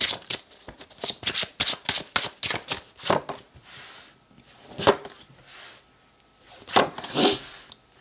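Tarot cards are shuffled by hand in rapid riffling bursts, crisp and close, with a few softer sliding pauses between runs of sharp papery flutters.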